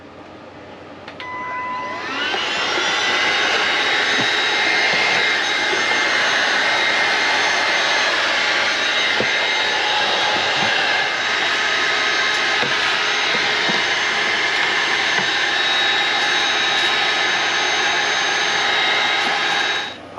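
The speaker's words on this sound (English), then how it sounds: "now we're just going to kind of brush some of this off and use our vacuum and clean it up" A vacuum cleaner starts up and runs with a loud, steady whine while cleaning inside a portable ice maker, holding an even roar throughout before cutting off at the end.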